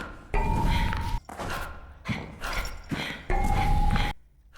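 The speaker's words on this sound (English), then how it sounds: "Bark at me all you want, babe." A dog barks in The Sims 4, a run of loud, close woofs and thuds in uneven bursts with short gaps, ending in quiet.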